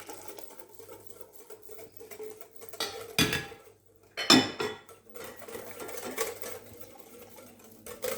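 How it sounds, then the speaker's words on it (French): A hand whisk stirs milk into a water, sugar and vanilla mixture in a bowl, making steady rapid clinking and scraping with a couple of louder, busier bursts partway through. "on intègre petit à petit, avec un fouet à main cette fois-ci, le lait dans notre mélange eau et sucre"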